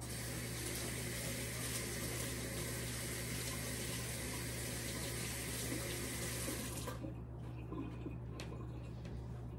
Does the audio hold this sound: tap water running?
yes